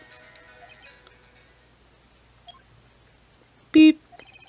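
A telephone in the Phoenix Wright Ace Attorney video game gives a short, loud dialing beep near the end, preceded by soft game background tones and a faint blip.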